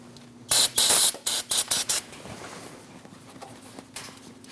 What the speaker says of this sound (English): Using some parts cleaner and a clean rag, spray and wipe the area.